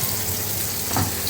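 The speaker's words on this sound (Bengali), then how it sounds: "আর এদিকে ইলিশ মাছ ভাজা হচ্ছে, আর ডিম ভাজি" Egg and hilsa fish frying in oil, a dense continuous sizzle heard close up, with a short louder burst near the end.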